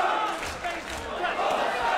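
A boxing crowd at a Mariusz Wach versus Tye Fields heavyweight fight roars and cheers steadily and loudly, a broad sustained swell of voices under a commentator's talk.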